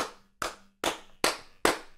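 A voice mimics a butt clapping against a pelvis: five sharp, slapping smacks spaced roughly evenly apart, close and alone with silence between them.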